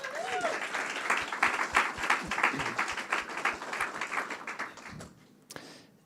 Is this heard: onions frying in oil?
no